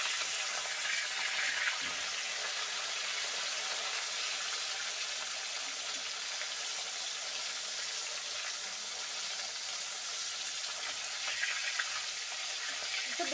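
Bata fish frying in oil, a steady hissing sizzle close by, with a couple of faint knocks as pieces are turned, continuous and without speech.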